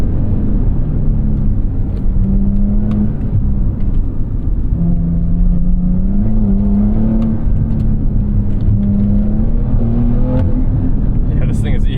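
2022 Porsche 911 Carrera S (992.1) accelerating, engine note droning and slowly rising in pitch, loud and close from the cabin over continuous road rumble.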